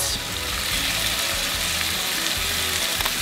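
Thin-sliced meat fries in a pan, producing a loud, close, continuous sizzle and crackle that stays steady throughout without any voices.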